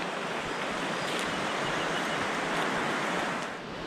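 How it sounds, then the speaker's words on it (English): Steady rushing of river water at a shallow creek crossing in North Cascades National Park, a dense, even wash of flowing water filling the whole stretch with no voices. "This is a really beautiful river area over here."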